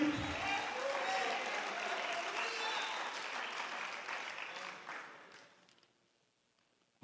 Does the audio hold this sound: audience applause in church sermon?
yes